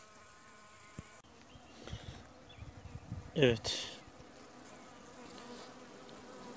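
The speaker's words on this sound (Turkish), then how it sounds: "Arılar formik asitten rahatsız oldukça sesleri geliyor." Honeybees buzz inside a weak hive as formic acid is dripped onto them for varroa treatment, a faint steady hum under a brief spoken word and handling noises, swelling briefly midway.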